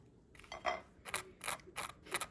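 Several short mechanical clicks and whirs of a Lainsten 2-slot digital toaster, in quick succession, faint and close, with brief gaps between them.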